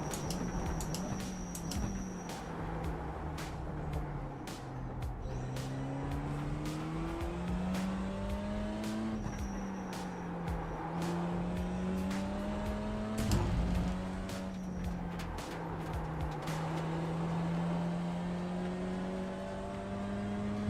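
BMW M2 race car engine in the iRacing sim racing game, droning and rising and falling with gear changes over about twenty seconds, with intermittent tire squeal and clicks, no talking.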